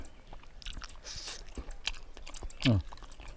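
Someone chewing braised pork leg skin and tendon close to the mic, giving moist smacking and soft crunches with one louder bite near the end, while background talk runs underneath.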